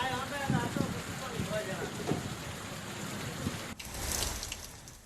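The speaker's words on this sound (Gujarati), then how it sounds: "ધીમે ધારે વરસાદ વરસતા વાતાવરણમાં ઠંડક પ્રસરી।" Rain falls steadily in a Gujarat village, a soft continuous patter under a voice speaking, which then cuts to a brighter, closer wash of rainfall near the end.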